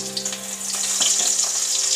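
A steady, crackling sizzle of curry leaves frying in hot oil, loud and close, continuing without pause.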